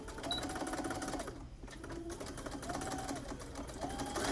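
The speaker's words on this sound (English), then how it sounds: "And then we are going to sew along the center seam or the center of the mask here." Sewing machine stitching along the center seam of a fabric face mask, a close, steady mechanical whir that pauses briefly once before running on.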